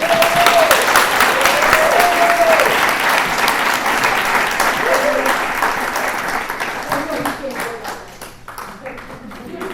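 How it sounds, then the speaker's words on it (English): A comedy audience gives comedian Lindsey Grant a loud, sustained round of applause with a voice over it, and the clapping thins out toward the end. "Let's have another round of applause for Lindsey Grant"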